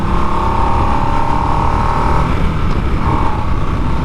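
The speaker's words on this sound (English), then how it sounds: "Definitely a nice smooth takeoff there." A vehicle pulls away smoothly with its engine winding up, a loud, steady, close drone that holds even throughout with a slight shift in pitch.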